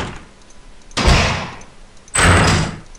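Door slam sound effect from RPG Maker VX Ace, played twice: two loud, sharp bangs about a second apart, each trailing off briefly, with no talking.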